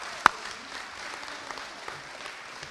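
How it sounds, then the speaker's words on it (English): Audience clapping at a senior awards program, a soft, steady patter of many hands heard from a distance after one sharp close bang near the start. "Give her a round of applause."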